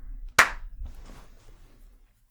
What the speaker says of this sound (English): Let's do a clap.